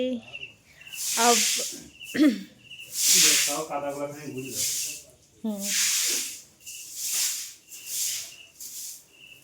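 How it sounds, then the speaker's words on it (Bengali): Water is sprayed over a kitchen floor as it is washed. Repeated loud hissing bursts come in irregular pulses, with people talking between and over the spray. "দেখো আমাদের রান্নাঘর ধোয়া চলছে।"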